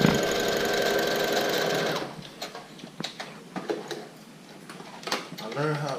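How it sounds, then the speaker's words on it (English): A sewing machine runs a steady double-stitch pass across the top of a seatbelt-buckle guitar strap for about two seconds, then stops, leaving scattered clicks and handling taps with a brief voice near the end. "double stitching pass on the top part"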